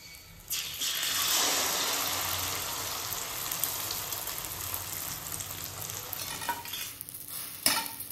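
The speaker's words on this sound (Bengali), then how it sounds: "আর দেখো এই তেলের মধ্যে গরম মশলা ফোড়ন দিয়ে" Garam masala tempered in hot oil gives a loud, steady sizzle that flares up near the start and holds for several seconds, with faint stirring scrapes and no talking.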